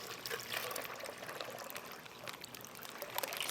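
Aquarium water pours into a container for rinsing a sponge filter, giving a soft, continuous trickling stream with small splashes, quiet and close, with no talking.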